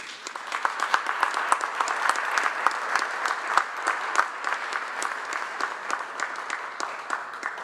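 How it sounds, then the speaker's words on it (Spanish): A crowd at a press conference applauds the departing authorities, with dense, sustained clapping from many hands filling the room, steady and fairly loud throughout with no one speaking over it. "Despidamos a nuestras autoridades con un fuerte aplauso."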